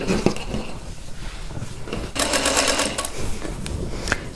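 A sewing machine stitches quilt block seams together in a steady mechanical whir, near and fairly loud, with a brief burst of faster, busier running partway through.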